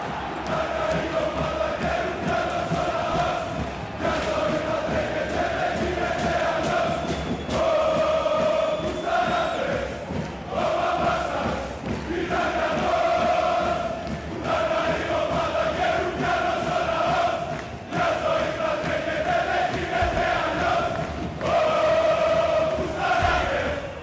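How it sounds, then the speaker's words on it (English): A Norse crowd in the Blood Bowl video game celebrates a score with a loud, sustained rhythmic singing chant that swells and dips in repeating phrases over about twenty-four seconds. "celebration by the Norse crowd. Yeah, you gotta love when they get into a good singing chant"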